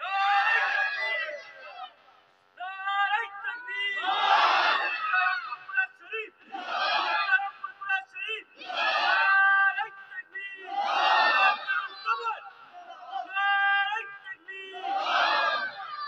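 A large crowd at an outdoor religious sermon shouts takbir in unison, a leader calling and the mass of voices answering in loud, repeated bursts with short gaps between them.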